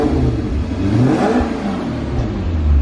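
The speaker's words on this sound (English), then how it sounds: "Come on, give us a rev. Let's have a sound." A car engine revs loud and close in a brief burst, rising and falling once before surging again at the end.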